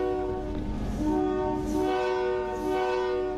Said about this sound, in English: They let people like me do the bells and the whistles.